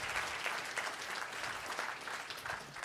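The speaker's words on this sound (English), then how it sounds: "now that we've got all our snaps and claps out of the way" Applause from an audience at a figure skating camp keynote, a steady wash of many clapping hands with scattered finger snaps that stays fairly even and moderately distant for the whole stretch.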